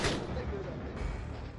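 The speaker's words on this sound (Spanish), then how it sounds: "pero los disparos terrestres lo hacen imposible" Ground gunfire aimed at a Blackhawk UH-60 helicopter opens with a loud, sharp blast that fades into a rumbling decay, with faint voices underneath.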